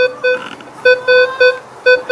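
A Minelab Equinox 800 metal detector sounds a steady pure electronic target tone in short repeated bursts, about five beeps with small pauses between them.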